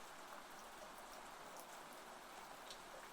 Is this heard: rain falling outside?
yes